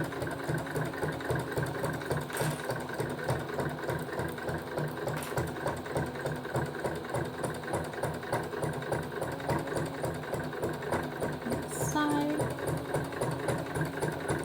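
Sewing machine stitching a cloth menstrual pad, its rapid rhythmic needle chatter running continuously at moderate volume, with a brief squeak near the end.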